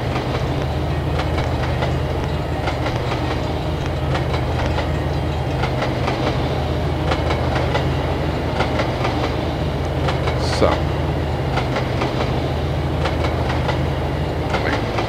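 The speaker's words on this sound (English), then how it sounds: "wait for that train to catch up" A train runs along the tracks in the Trainz railroad simulator game, a steady rolling rumble with continuous clickety-clack of wheels over rail joints, heard alone throughout.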